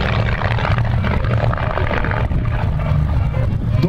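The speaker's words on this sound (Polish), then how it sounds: "wręcz silnik to silnik Szewcowa o mocy 160 koni." A Yak-18 trainer's 160-horsepower Shvetsov radial engine drones loudly and steadily up close at an air show, a rough, throbbing roar filling the whole stretch.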